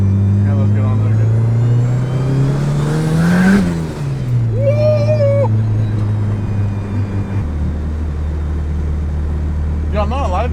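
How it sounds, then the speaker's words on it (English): A Honda Civic EK hatchback with a B-series engine, tuned to about 400 hp, revs up to a peak and then drops back to a steady drone, heard from inside the car with people talking. "Any B series, especially when it hits VTEC, sounds good."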